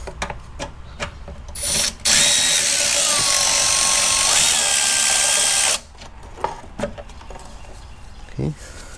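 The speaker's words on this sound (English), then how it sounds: "Let me grab an extension and maybe the power tool though." A power tool whirs loudly for a few seconds, a steady high-pitched grinding burst loosening a rusty bolt on a 2011 Toyota Sienna, between quieter clicks and clanks of hand work.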